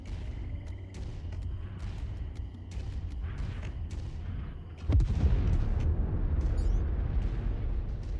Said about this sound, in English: That was a loud explosion.